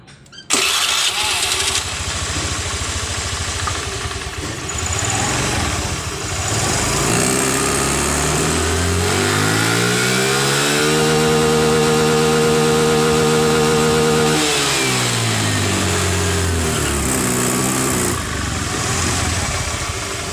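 A Honda Beat FI scooter engine, just fitted with a new TPS sensor after hesitating at mid revs, cranks and starts, settles into a buzzing idle, then revs up smoothly, holds high, and drops back, loud and close with no talk.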